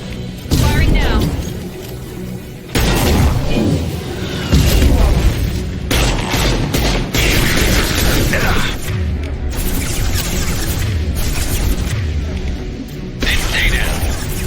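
Weapon fire and explosions from the Mass Effect 2 video game on Hardcore difficulty, a run of loud, broadband bursts and booms with heavy low-end rumble that keep recurring through the clip, with a voice speaking over the combat.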